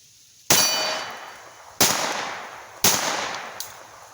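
A C96 broomhandle pistol chambered in .22lr fires three sharp, loud shots at uneven intervals. Each crack rings out and decays quickly, followed by a fainter fourth pop.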